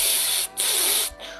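A voice imitates a soft, breathy hiss in two sustained puffs of air with a short gap between them, close and fairly quiet, like air blowing without a tone.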